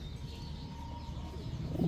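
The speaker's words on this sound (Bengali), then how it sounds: "এটা হচ্ছে একটা মাদি কবুতর" A female pigeon with green eyes coos softly and low, a steady murmur that swells a little toward the end, with faint chirps in the background and no talking.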